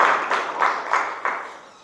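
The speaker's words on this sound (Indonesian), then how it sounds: "Alhamdulillah, tepuk tangan." Children in a classroom clap together in an even, rhythmic group beat, about six claps close together, fading slightly toward the end.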